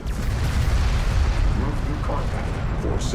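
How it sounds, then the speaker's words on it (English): Railguns fire in the strategy game Homeworld: Deserts of Kharak, producing a dense, continuous barrage of heavy booms and rumbling blasts that stays loud throughout the battle. "Railguns back here behind the resourcing, taking fire, but the railguns of A-Game answering"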